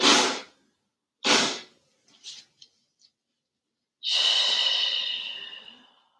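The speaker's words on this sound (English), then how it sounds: "Big deep breaths." Deep breathing during a yoga session: two full exhalations close to the listener, a few faint soft clicks, then a long, slow breath that fades out.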